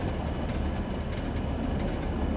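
A BR heavy freight train runs east toward Manchester in Train Sim World 2, giving a steady, loud rumble of rolling wagons with faint rhythmic rail clatter and no voices.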